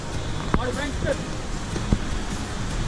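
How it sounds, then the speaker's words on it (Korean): Steady rushing water from a waterfall in Pahalgam, India fills the background, a continuous broadband roar, with people talking over it. "이게 폭포도 흐르고"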